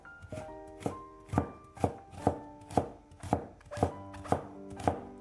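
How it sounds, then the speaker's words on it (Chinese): A knife chops a half peeled carrot on a cutting board, slicing it thin with about ten sharp, evenly spaced strikes that knock close and clear, with no voices. "半根去皮的胡萝卜先切成薄片"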